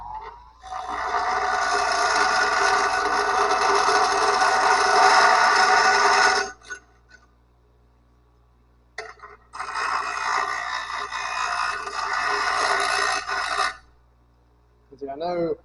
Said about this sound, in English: I'm gonna throw a quick sand on or grind on it with the fine grinder.